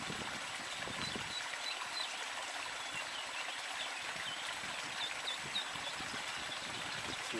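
The Quattelbach stream in Jugenheim flows steadily nearby, a constant burbling rush with faint chirps above it and no voices.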